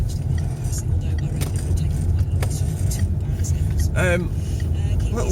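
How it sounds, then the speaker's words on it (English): Small cars drive past on a street in Camelon, Falkirk, Scotland, with a steady traffic rumble and one clearer pass, while someone talks over it close by. "These little tiny little cars."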